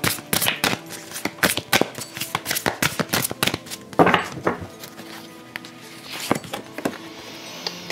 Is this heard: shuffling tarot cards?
yes